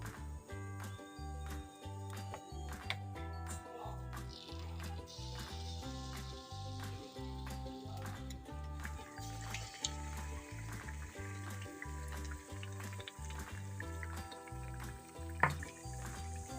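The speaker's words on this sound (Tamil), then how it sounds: "இப்போ எண்ணெய் நல்லா காஞ்சதுக்கு அப்புறம் இது எண்ணெயில ஊத்திடலாம்." Sweet appam batter fries in hot oil with a steady, soft sizzle and bubbling, broken by small regular pops and drips, fairly quiet and close, running on without talk.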